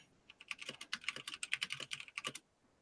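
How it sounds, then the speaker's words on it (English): Keys on a computer keyboard clack in a quick, uneven burst of close, crisp taps lasting about two seconds before stopping, with no voices. "it tends to be very noisy when I type"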